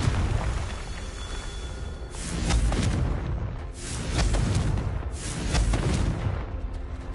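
Blasting-spell explosions in Hogwarts Legacy, several heavy booming bursts that roll and rumble in waves over a continuous loud bed of rumble, with no talking.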